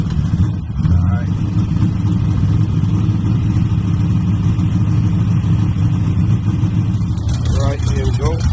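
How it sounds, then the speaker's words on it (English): A car engine idles with a steady low rumble from the exhaust, continuous and fairly loud, with a person talking over it. "let y'all hear the outside exhaust note"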